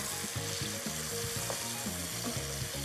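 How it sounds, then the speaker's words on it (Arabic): Kofta meatballs with coriander and garlic frying and stirred in a pan, a constant bright sizzle over repeated low thudding strokes of a spoon turning the pieces. "هلا بحطها فوقهم وبقلب فيهم منيح لنحس الكفته صارت اخذه من الخلاص الكزبره والثوم"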